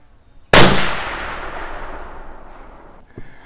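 A single rifle shot from a .280 Ackley firing a 145-grain Barnes LRX bullet, a sudden sharp close blast followed by a long rolling echo that fades over a few seconds, with a faint knock near the end.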